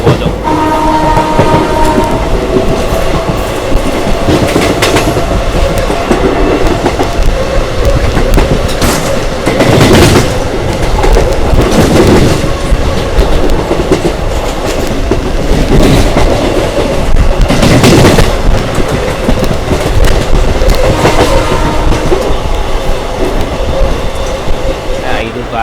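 A Hubballi–Chikkamagaluru special passenger train running on rails via Haveri and Davanagere: a loud, close, continuous rumble with rhythmic wheel clatter that stays steady throughout, and a brief horn-like tone near the start.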